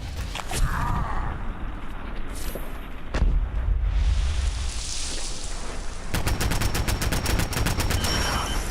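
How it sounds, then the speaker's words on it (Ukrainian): A mine blast and gunfire in the video game Fallout 4: sharp bursts and a heavy boom midway, followed by a rapid run of evenly spaced shots, loud over a steady background. "вибухнула ця кришка міна"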